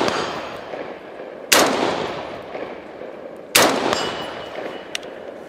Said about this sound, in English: I'm going to put 30 rounds through this guy right here